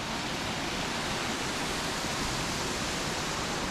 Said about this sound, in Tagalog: Waterfall is going here.